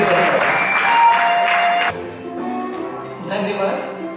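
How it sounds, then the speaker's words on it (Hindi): An audience at a Hindi poetry event applauds to welcome a poet, a dense burst of clapping that cuts off abruptly, then gives way to softer sustained music-like tones and fainter sounds. "अरे आइए उनका स्वागत तालियों के साथ करें।"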